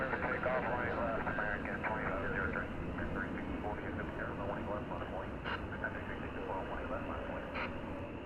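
An Airbus A321 airliner arriving at DFW Airport gives a steady, broad jet rumble throughout, with people talking over it.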